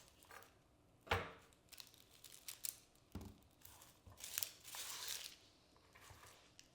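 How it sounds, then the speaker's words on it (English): Knife slicing onion and shallots on a board in a home kitchen, making scattered crisp crunches and crinkly cuts at an irregular pace, fairly faint and close, with no talking. "now we're gonna cut up our onion and our shallots"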